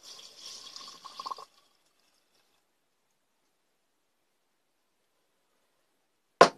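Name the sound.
pouring denatured alcohol into a jar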